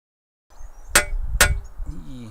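A hammer strikes a scythe blade twice, each blow a bright metallic clang with a short ringing tail, followed by some low handling noise.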